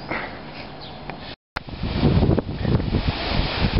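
Wind and lapping water at a lake shore on a cycling trip through Masuria, a rough gusty rush with microphone buffeting, briefly cut out, then resuming louder with splashing surf underneath.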